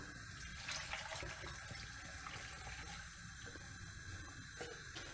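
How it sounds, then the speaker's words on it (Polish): Broth pours steadily into a pot for pumpkin soup, a soft continuous splashing stream heard up close without any talking. "I zalewamy wszystko bulionem."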